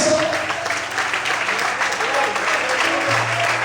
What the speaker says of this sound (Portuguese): Quando podem aplaudir e exaltar o Senhor.